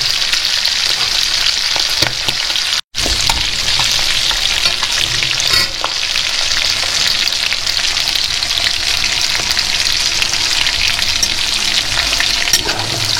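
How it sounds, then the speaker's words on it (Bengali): Bone pieces fry in hot oil with a loud, dense, continuous sizzle and crackle, steady throughout apart from one instant dropout, with no talking. "এখন দেখেন তেলের মধ্যে হাড্ডিটা দিয়ে দিচ্ছে।"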